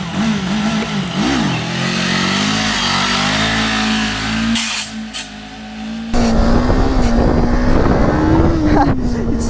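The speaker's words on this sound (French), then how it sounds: "j'accélère à fond à la fin pour vraiment pas traumatiser les joints spi" A Kawasaki motorcycle engine revved hard at full throttle, a loud sustained roar with rising and falling pitch, briefly easing before surging again near the end.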